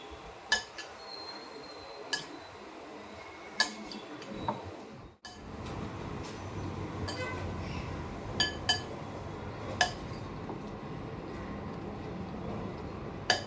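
Marinated soya chaap pieces being mixed with onion, capsicum and salt in a bowl: a spoon clinks sharply against the bowl at irregular intervals over soft wet stirring, close and fairly quiet.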